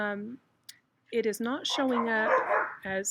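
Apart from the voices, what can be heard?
dogs barking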